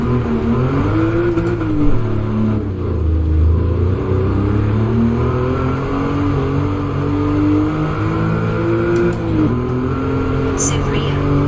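A race car engine drones in Gran Turismo 7, with a steady mid-pitched hum that rises and falls gently as the car is driven over a bumpy stretch, with a brief high squeal near the end.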